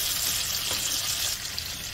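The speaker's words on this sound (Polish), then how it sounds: "rozpuszczam to masło, dodaję również pieczarki, żeby się smażyły" Mushrooms frying in melted butter with rosemary in a pan, giving a steady, close, bright sizzle that fades slightly near the end.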